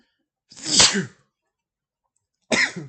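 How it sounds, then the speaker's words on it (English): Two sharp, close sneezes from one person, the first longer and louder, the second shorter after a brief silence. "Excuse me, I sneezed."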